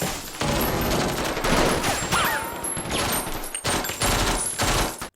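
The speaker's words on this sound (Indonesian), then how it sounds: "Dan yang lain diserang habis-habisan hingga aksi baku tembak pun gak bisa dihindarkan." Film shootout with sustained bursts of gunfire and rapid fusillades from several weapons, loud and dense across the scene, with brief pauses between volleys and no talk.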